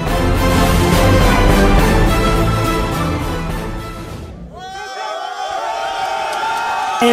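A crowd cheers and whoops loudly around Sergeant Jacqueline Toé, a paratrooper from Mali, just after her landing from a 2800-metre jump, in sustained roaring that dips and then carries on with shouts.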